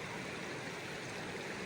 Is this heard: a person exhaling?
no